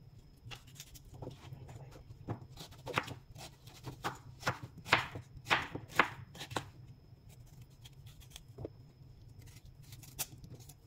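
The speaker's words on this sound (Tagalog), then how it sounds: "hirap na hirap ako maghiwa" Knife chopping squash (kalabasa) on a board: a run of sharp, close cutting thuds and crunches, irregular at first, then quicker and firmer in the middle, tapering off to sparse cuts over a low background hum.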